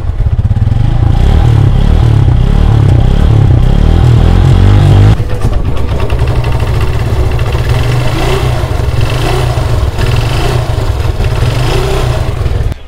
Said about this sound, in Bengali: দেখুন ইঞ্জিনের সাউন্ডটা, ইঞ্জিনের সাউন্ড আপনারা লক্ষ্য করুন।